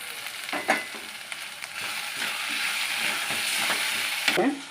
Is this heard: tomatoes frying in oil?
yes